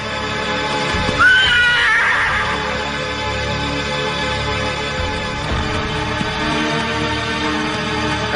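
A horse gives one loud, quavering whinny early on, rising and fading over about a second, followed by a steady background ambience with no voices.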